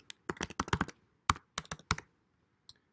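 Quick bursts of keystrokes on a computer keyboard as a username and password are entered, close and crisp, in short clusters with brief pauses between them.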